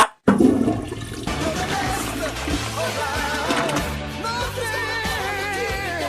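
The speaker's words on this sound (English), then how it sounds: "I take a step back to step on the handle so I can flush it." A restroom toilet flushed by stepping on its handle with a foot: a loud rushing, gurgling flush starts abruptly and runs steadily, with background music playing throughout.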